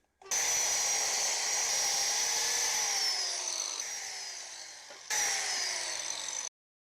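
A power tool cuts slots into a board of rough, shoddy end-table wood in two bursts, a long loud whining run that slowly drops in pitch, then a short pause and a second, shorter burst.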